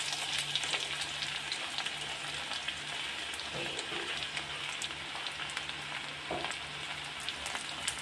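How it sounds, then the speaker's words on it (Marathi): Garlic hitting hot oil on a high flame for a restaurant-style Chinese dish, giving a steady close sizzle with faint crackles and occasional soft utensil taps, no voices. "तेल गरम झालेलं आहे त्यामध्ये आता आपण लसूण टाकणार आहोत"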